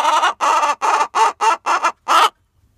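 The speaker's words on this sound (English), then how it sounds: "Those guys are two little nice calm chickens." Pet chickens cluck close by in a series of seven short, evenly spaced bursts, each loud and raspy, ending in quiet.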